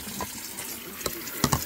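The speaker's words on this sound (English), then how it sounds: "And then I mix it with hot water. I put some hot water." Hot water is poured into instant yeast in a kitchen for puff puff dough, a soft trickling splash with a few brief louder spurts near the end, close by.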